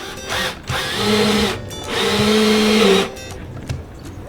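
A power drill whirs in two bursts of about a second and a half each, with short pauses and faint background noise between them.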